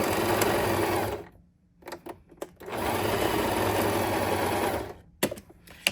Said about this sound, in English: I'm running a zigzag stitch.